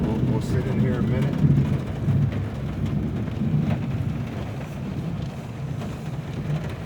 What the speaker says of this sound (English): What if the storm doesn't go by in 2 minutes?